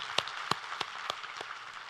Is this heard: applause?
yes